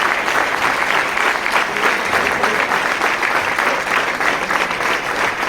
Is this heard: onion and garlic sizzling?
no